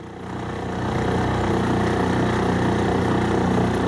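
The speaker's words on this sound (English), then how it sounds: "I think it's the outboard motor" An outboard motor on a boat on Logan Martin Lake runs steadily and close by, a continuous droning engine hum with a slight irregular rattle that holds at an even level throughout.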